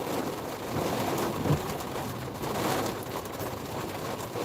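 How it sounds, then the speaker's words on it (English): Dense, steady rain pours down in a continuous broadband wash, loud and close, with a few faint low rumbles and no voices. "It's pouring."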